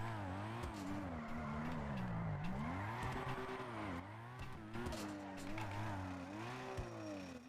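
Racing video game car engine revs steadily, its pitch rising and falling through gear changes, with tire skids and squeals mixed in, loud and continuous throughout.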